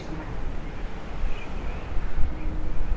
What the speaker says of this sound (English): Wow, it is so beautiful, but it is so windy right now.